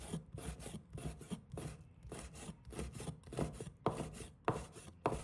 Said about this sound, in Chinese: 鱿鱼我们也切成丝